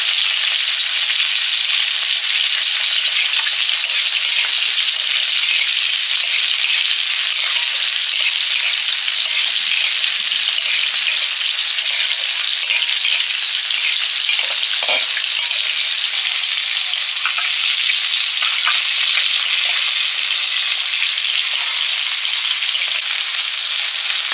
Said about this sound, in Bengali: নিম পুরগুলো প্রথমে শুকনো কড়াতে ভেজে নিয়েছি। এবার একটু সরষের তেল দিয়ে দেবো।